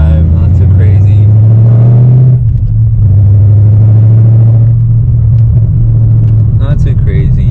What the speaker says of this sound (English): I like driving this car. It's pretty damn chill, you know. It's pretty loud too